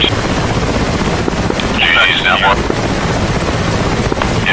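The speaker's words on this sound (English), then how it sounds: "No, there's helicopters." Helicopters in the DCS World flight simulator give off a loud, continuous rotor and turbine rumble with wind-like rushing noise, and a brief high whine cuts in and out.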